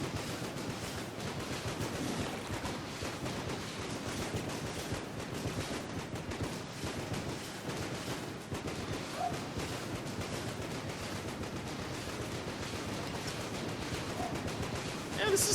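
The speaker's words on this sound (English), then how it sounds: "This is a lot of explosions going on." Dense, constant video game gunfire and explosions from Enter the Gungeon form a steady barrage of overlapping blasts and shots at an even moderate level, with a player talking now and then beneath the din.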